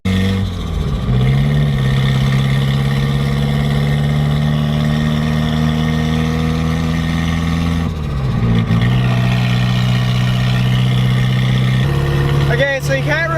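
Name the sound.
SR-engined Nissan 240 car being driven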